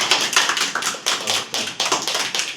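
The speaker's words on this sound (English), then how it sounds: "Okay, clap for him." Students in a coaching-centre classroom clap together. The applause comes in several quick bursts of sharp, close slaps with brief gaps between them, and no one talks.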